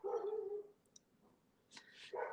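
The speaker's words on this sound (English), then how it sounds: "He's a Doberman, and he howls funny" A Doberman named Bear gives a couple of short barks and a whimper up close, with a second burst of barks after a quiet gap indoors.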